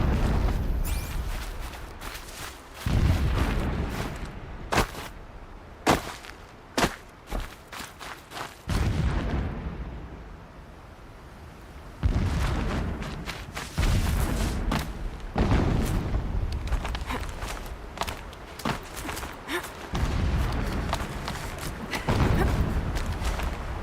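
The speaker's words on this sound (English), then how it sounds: "Explosions in the distance." Deep booms and heavy thuds roll in repeatedly over a constant low rumble, some sharp and sudden, others muffled and far off.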